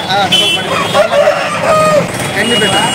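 A rooster crows and hens cluck at a busy outdoor poultry market, repeated calls rising over steady crowd chatter and passing traffic noise.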